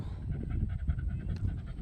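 Rapid, steady dog panting close by, with breathy rhythmic huffs filling the whole moment and no talking.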